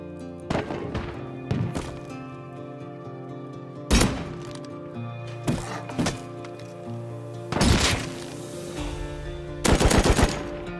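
Gunfire in the survival video game Rust, aimed at a player's windmill: scattered loud shots and short bursts over a steady droning background, with some duller thuds between them.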